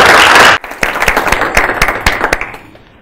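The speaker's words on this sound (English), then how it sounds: "would you all join me in providing a round of applause for the Sassamans" Audience applause closing a lecture honoring the Sassamans: a dense burst of clapping that cuts off abruptly, followed by scattered, fading individual claps.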